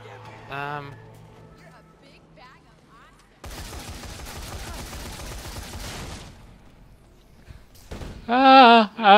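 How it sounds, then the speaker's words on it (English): Explosions and gunfire in the Dead Rising 3 video game: a dense burst of rapid shots and blasts fills the middle, with a player talking briefly before and after. "So many explosions."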